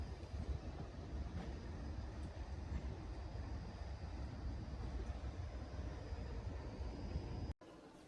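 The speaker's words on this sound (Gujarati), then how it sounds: "6:50 આપણી ટ્રેન અંબાલા છાવનીથી ઉપડી ગઈ છે." A passenger train pulls out of Ambala Cantonment station, heard from inside as a continuous low rumble and rattle of the carriages that holds steady, then cuts off abruptly near the end. No one speaks.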